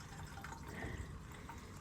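Water flows from a pipe into a pond filter and overflows back into the pond, a steady close splashing and trickling throughout with no voices.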